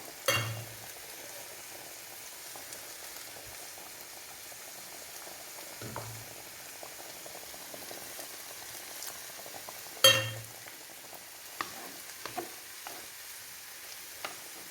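Fish curry with mango bubbles steadily in a clay pot, a soft continuous simmer with gentle popping, punctuated by a few louder clanks and stirs at intervals.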